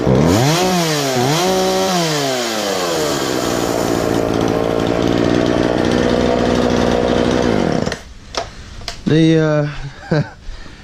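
Husqvarna 136 chainsaw running after a carburetor rebuild, with a dull chain, revving up and down in strong sweeping pitches, then settling to a steady loud drone before cutting out to short blips and bursts near the end.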